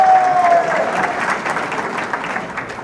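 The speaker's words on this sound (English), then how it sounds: "It is nice to hear the cheering, Kevin." Audience at an education awards gala applauding and cheering, a thick wash of clapping with a rising whistle at the start, loud at first then gradually fading.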